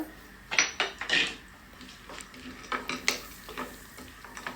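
Raisins and cashews stir-fry in hot ghee in a pan, with a soft sizzle under repeated close clinks and scrapes of a spoon against metal, and no voices.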